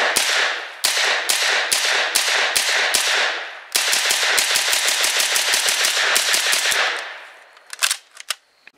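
POF MP5 full-size rifle firing outdoors: loud, close single shots in a steady rhythm, followed by a fast rapid-fire burst of many rounds, then a few scattered clanks as it stops.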